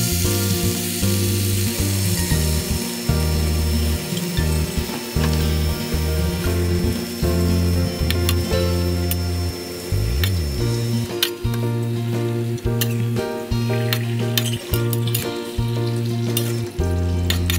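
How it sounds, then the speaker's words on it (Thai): Chinese kale is stir-fried in a hot pan, with continuous loud sizzling and frying and repeated rhythmic scraping and stirring strokes of a utensil against the pan throughout. "ผัดจนกลิ่นเขาหอมนะคะจากนั้นก็ค่อยใส่ผักคะน้าลงไปค่ะ"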